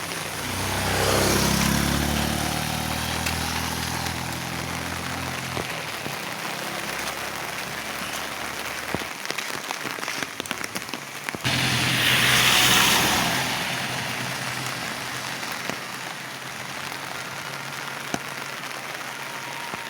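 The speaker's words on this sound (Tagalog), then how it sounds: "Umuulan rito sa amin." Rain falls steadily outdoors, a broad hiss that swells twice, with a heavier burst in the middle. A low rumble sits underneath, probably a passing vehicle.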